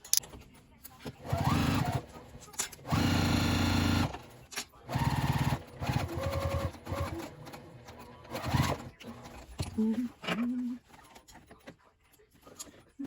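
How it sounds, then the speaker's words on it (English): A sewing machine runs a quarter-inch seam along the side of a fabric memory bag in several loud, steady whirring bursts separated by short pauses and handling noise. "Now I'm just stitching up the other side, 1/4 inch"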